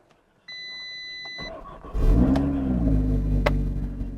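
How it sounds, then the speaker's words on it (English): Audi RS3 with 51,000 miles cranks and fires straight up after a warning chime, then settles into a loud, deep close-up rev and idle, no talking. "Oh, that fired straight up."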